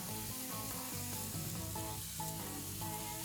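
Seasoned seafood sizzles loudly and steadily on a grill at medium-high heat, a dense, continuous frying hiss close by with no talking.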